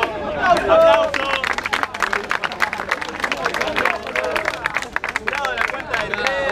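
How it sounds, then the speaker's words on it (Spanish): Crowd clapping and cheering erupts at a freestyle rap battle, dense rapid applause mixed with voices and chatter throughout, loud and close. "¡Aplausos!"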